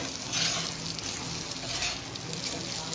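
Kane fish pieces frying in a pan give off a continuous crackling sizzle with small bursts of spattering, close and fairly quiet, with soft scraping as the pieces are turned over.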